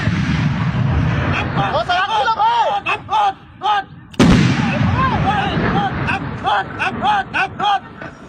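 Thai soldiers near the Thai–Cambodian border fire an artillery gun by pulling its lanyard. A single sharp, loud blast comes about halfway through, with chirping birds and faint voices before and after.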